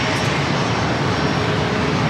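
An airliner's engines roar steadily as it takes off from runway 27, a loud, dense, unbroken rumble filling the short stretch with no speech.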